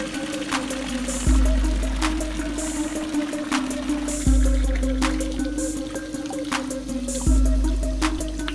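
Water bottles are filled at a spring water fountain in the south of France. Running water flows steadily with a gurgling note, and a pulse that swells and eases repeats about every three seconds.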